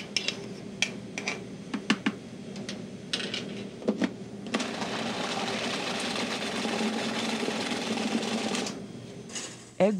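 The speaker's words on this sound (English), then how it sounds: "Egg whites are beaten to the soft peak stage." Egg whites beaten to soft peaks with an electric mixer, a steady whirring drone running for about four seconds after scattered clicks and taps of bowl and utensils, close and moderately loud.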